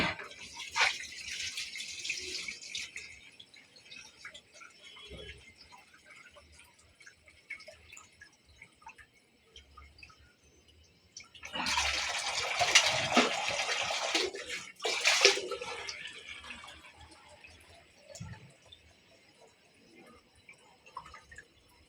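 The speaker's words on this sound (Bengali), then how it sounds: "ছেলে মানুষ কত সুন্দরভাবে মাছ ধুতে পারে।" Running water splashes as a man washes fish, heard in two louder bursts at the start and again midway, with quieter dripping and handling sounds between.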